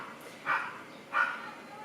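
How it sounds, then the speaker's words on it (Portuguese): Dog barking in two short, separate bursts indoors, moderately loud with a quiet pause between them. "Agora o cachorro não para de latir."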